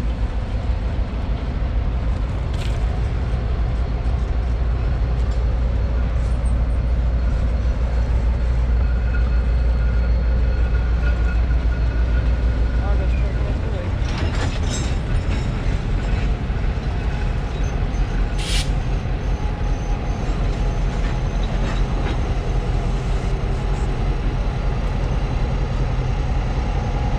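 A slow freight train rumbles past steadily for the whole stretch, a heavy low drone with occasional metallic squeals and clanks from the cars.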